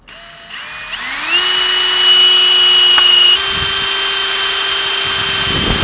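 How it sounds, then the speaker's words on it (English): A power drill bores holes in the underside of a Hyundai i30N to fit Maxton Design rear spats; the motor spins up to a steady, loud high whine and holds it, then the pitch dips slightly as the bit bites. "drill through those holes again once it's sitting flush"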